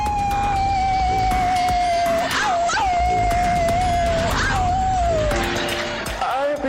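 Loud, sustained howling tones rise and fall over several seconds, with more voices joining in a wavering chorus, sounding like people imitating dogs.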